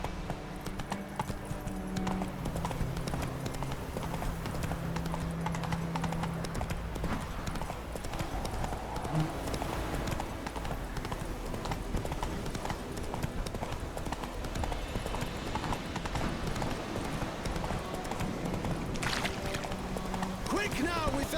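Hooves clip-clop steadily at a galloping pace in The Witcher 3, a continuous rhythmic pounding under game music and ambient sound, with occasional voices.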